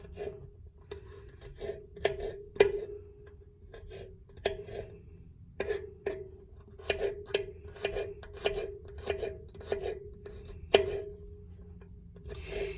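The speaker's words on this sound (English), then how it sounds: "So I just try and do my best to cut it as small as I can." A knife mincing garlic on a cutting board while cooking jambalaya in an RV kitchen: a run of sharp, uneven chopping taps, close and moderately loud, with some rubbing scrapes between strokes.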